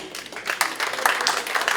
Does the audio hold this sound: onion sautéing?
no